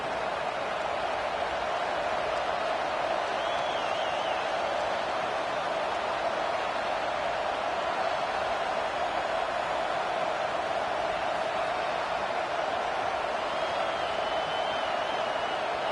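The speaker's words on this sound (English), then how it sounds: "This crowd bringing the energy and noise early." Crowd noise fills a stadium at a college football game, a steady, dense roar that holds unbroken at an even level throughout.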